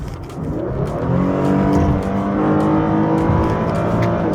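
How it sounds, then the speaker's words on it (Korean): An Infiniti G37S engine revs hard toward about 7000 rpm, a loud, sustained rising roar with a steady, full exhaust note close by and no talking. "이렇게 순간적으로 한 7000rpm까지 확 이제 RPM을 솟아 올려주고, 그 다음에 다운시프트, 업시프트 이렇게 하면서 이제 그 속도를 이어나가죠"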